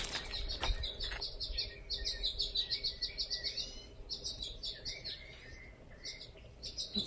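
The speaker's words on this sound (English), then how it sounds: "I like little tiny birds." Small birds chirp and twitter continuously in a garden, with overlapping high, quick calls at moderate distance and no speech.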